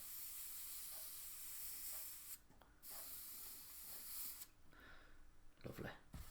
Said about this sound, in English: Do a test spray, make sure everything's flowing nice.